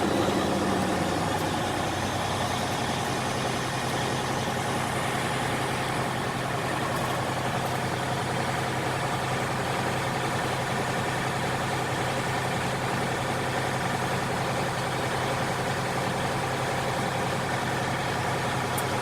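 A heavy truck engine idles steadily for the full stretch, a constant low rumble with a broad hiss layered over it, close and loud without any speech.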